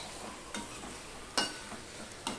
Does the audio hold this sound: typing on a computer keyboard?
no